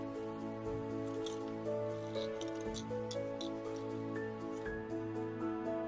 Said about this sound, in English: using your scissors, carefully cut along both of the lines you've drawn, almost to the bust point